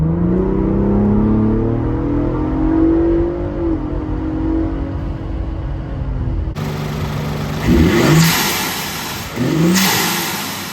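A Ford Bronco Raptor fitted with an S&B cold air intake revs with the windows up, a steady engine drone heard from inside the cab, swelling in two louder throttle blips near the end.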